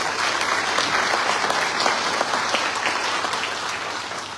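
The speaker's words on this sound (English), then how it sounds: "Clap yourselves." A graduation ceremony audience applauds loudly and steadily, a dense sustained wash of clapping from a large crowd with no talk over it, easing slightly toward the end.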